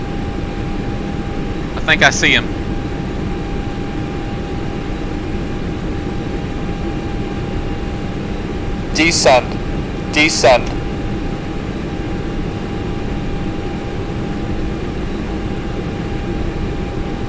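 A steady airplane engine hum drones through a flight simulator game cockpit, constant and even, while someone talks over it and a few short electronic beeps cut in.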